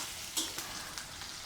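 Onions sizzling in a hot pan as the base for a prawn curry, a steady soft frying hiss with a brief sharper crackle near the start and faint stirring scrapes, no voices.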